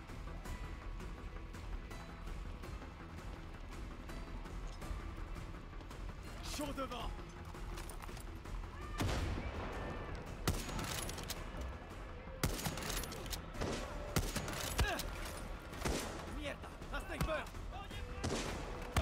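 Gunfire from the video game Far Cry 6: dense volleys of shots and booming explosions run continuously beneath someone talking, with bursts of sharper cracks and crashes in the second half.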